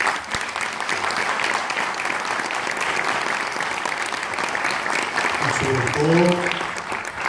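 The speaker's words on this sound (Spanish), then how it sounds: "Creo que es un testimonio que merece un fuerte aplauso." Broad, sustained audience applause rolls through an assembled crowd for several seconds, steady and fairly close, with a voice briefly speaking over it near the end.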